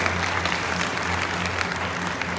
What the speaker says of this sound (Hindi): मैडम के लिए एक बार जोरदार तालियां